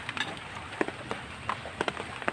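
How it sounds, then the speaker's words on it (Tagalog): Heavy rain pours over an outdoor cooking and eating spot during a lechon sisig meal, a dense steady hiss broken by sharp drips and splats, close by with no speech. "lakas na ng ulan"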